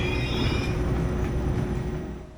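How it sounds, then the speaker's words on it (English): An ICE 2 high-speed train, built by Adtranz and Siemens, pulls into a station with a loud continuous rumble of wheels on rails and a faint steady whine, easing off as it slows. "Another difference we can see here as the train is pulling in"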